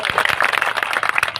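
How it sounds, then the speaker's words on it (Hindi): An audience at a political gathering in Khajuwala claps for the chief minister: a dense, steady patter of many hands, fairly loud and close, filling the whole short stretch without a break. "इसलिए मुख्यमंत्री जी के लिए तालियां बजाओ।"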